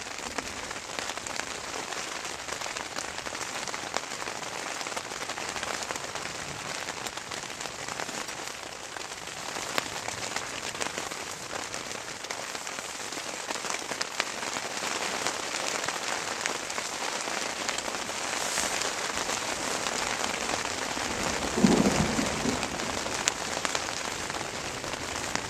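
Steady rain patters and drips outdoors for the whole stretch, a continuous soft hiss of drops with no voices.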